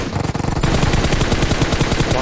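A video game firearm unloads a continuous spray of about 40 rounds, a loud, rapid, unbroken stream of automatic gunfire that fills the whole moment with no talking.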